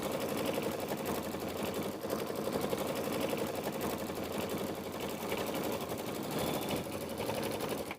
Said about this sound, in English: let's go ahead and begin the background quilting